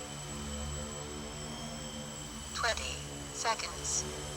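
An RC Factory Synergy model plane's electric motor hums at just under half throttle, a steady tonal whine with harmonics, with brief quick pitch sweeps as it passes and voices talking over it.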